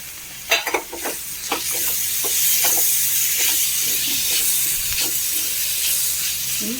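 Tomatoes frying with jackfruit and chicken parts in a pan, loud steady hiss of sizzling throughout, with a few scraping stirs of a spoon near the start.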